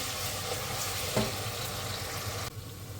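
Onions and carrots frying in a pan with a steady close sizzle that runs throughout, a brief clatter or stir near the middle, and the hiss easing slightly toward the end.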